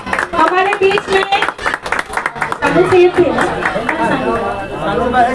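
Loud rhythmic clapping from a gathered crowd at a mass wedding event for five couples, sharp hand claps interleaved with an announcer's amplified voice and background chatter.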